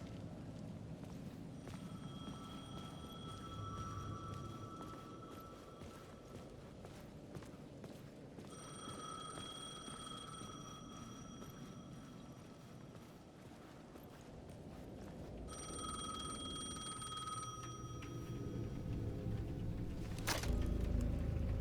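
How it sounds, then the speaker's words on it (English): A payphone in the video game Alan Wake 2 rings in three repeated electronic trills, each lasting several seconds with pauses between them. The ringing sounds fairly faint over low, rumbling ambience and shuffling footsteps. "The payphone at the edge of the plaza was ringing again."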